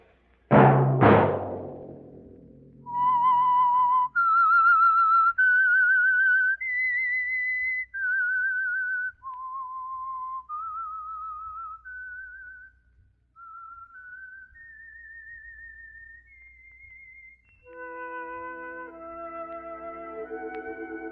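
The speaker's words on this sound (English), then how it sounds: "Let that whistle be your signal for the Signal Oil program, The Whistler" A lone human whistler performs The Whistler radio theme, a slow, eerie melody of clear sustained notes stepping up and down, starting after a loud opening burst and ending as orchestral music enters.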